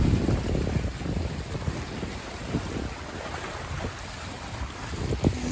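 Wind-driven waves churn on a lake at Saint-Michel, a continuous rough wash and gusty rumble with scattered splashes, fairly faint and without talk.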